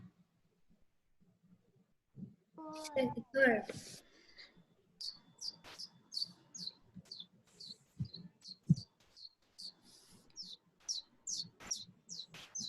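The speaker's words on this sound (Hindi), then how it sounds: "Oh, he is making us hear the bird sound." A recorded Asian koel call plays in a classroom, a run of short, sharp, rising whistled notes repeated quickly and evenly, fairly faint, with people talking and brief voices near the start.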